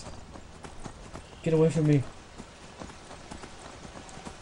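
Horse hooves clip-clopping in the fantasy game Skyrim, steady muffled steps running through the clip under someone shouting over them.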